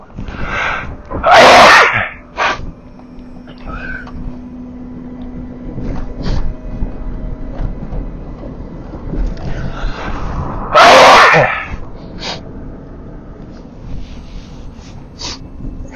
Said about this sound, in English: A lot of sniffling and sneezing today in today's episode.